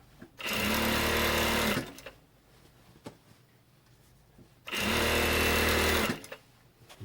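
Sewing machine stitching shortened stretchy Adidas tracksuit trousers, running in two steady bursts of about 1.5 seconds each with a quiet pause between, loud and close.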